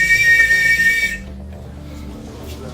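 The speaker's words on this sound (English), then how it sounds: "The whistle, it's over" A sharp, loud referee whistle blast ends a training drill, ringing steadily for about a second before cutting off into low background noise.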